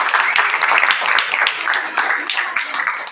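Audience applause at a quiz contest between school teams, a short burst of dense clapping from a nearby crowd with a voice speaking over it.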